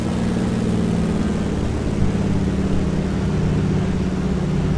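A DHC-2 Beaver seaplane's radial engine and propeller hold climb power in Microsoft Flight Simulator 2020, a loud, steady droning hum with no break and no speech.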